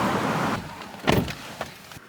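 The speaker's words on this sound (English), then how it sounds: "There's loud cars, but this is what it's all about." Loud cars pass outside, a broad whooshing rush that swells and fades against a constant background roar.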